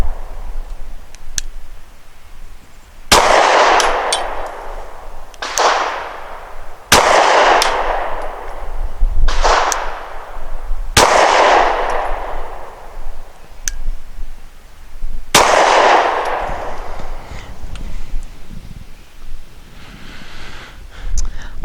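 About six sharp, loud pistol shots at irregular intervals, each ringing out with a decaying echo, from a customized Glock 43 fitted with an L2D barrel and a Patriot Ordnance Factory slide.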